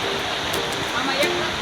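A monsoon waterfall at Jatashankar in the Girnar hills pours in a dense, unbroken roar of falling water, close and steady throughout.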